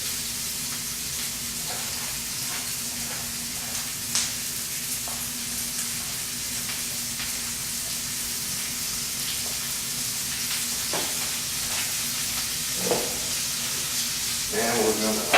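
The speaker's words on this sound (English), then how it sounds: "That's the sizzle we want to hear." Steady, close sizzling of onions and peppers frying in a hot pan, a continuous crackling hiss with a few brief clinks and stirring noises near the end.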